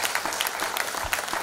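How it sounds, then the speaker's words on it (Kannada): Steady applause from a church congregation at an Infant Jesus novena service, dense and continuous clapping throughout with no speech over it. "ಚಪ್ಪಾಳೆ ಕೊಡೋಣ"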